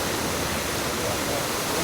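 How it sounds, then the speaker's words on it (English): Rushing, splashing water of the Trevi Fountain in Rome, a steady, dense wash of falling water heard close and loud with no break. "isn't it iconic drinking the water right here from Trevi Fountain?"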